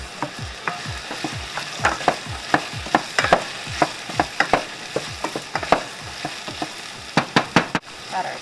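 Carrots and string beans stirred in a hot pan with a vegan moussaka mix, a steady sizzle under repeated scraping strokes of the spoon, close and fairly loud with no talking.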